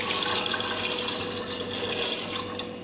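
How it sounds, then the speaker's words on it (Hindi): Water, about a glass of it, is poured into browned mutton masala in a pressure cooker for an arbi palak mutton curry, making a steady, close splashing gush that runs the whole time with no talk. "अब मैं इसमें पानी ऐड करूँगी।"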